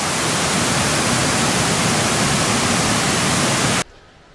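Cascata del Vitello d'Oro waterfall near Farindola in Abruzzo, Italy, roars as a dense, steady hiss of falling water, loud and close, before cutting off abruptly near the end.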